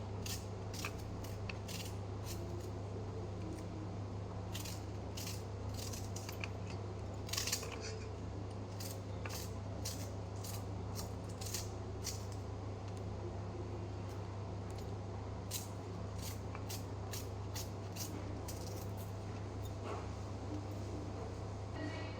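A knife finely chops onions on a cutting board for pasta, making steady, rapid, crisp taps in an even rhythm throughout, close but soft over a low background hum, with no talk.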